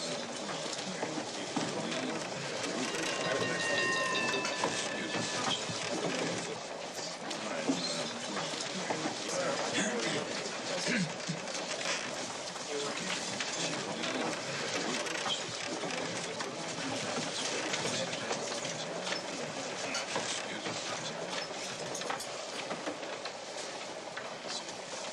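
A passenger train runs on rails with a continuous rumbling rattle of the car in motion, a steady wash of noise that fills the whole stretch with no clear break.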